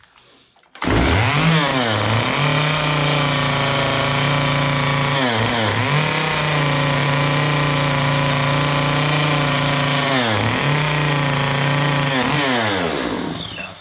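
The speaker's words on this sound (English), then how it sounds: "I like to just kind of take the saw and you can just kind of drag it out a little bit, and that'll smooth some of this" A chainsaw runs steadily and loud close by while its bar is dragged across a carved wooden gnome to smooth the surface, the engine note dipping briefly a few times as it bogs and recovers.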